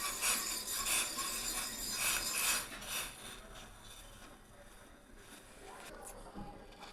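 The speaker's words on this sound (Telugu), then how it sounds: "ఒకసారి మిక్స్ చేయండి." A spoon scrapes and rubs steadily through water ball curry cooking in a bowl, a close, continuous stirring that is loudest at first and eases toward the end.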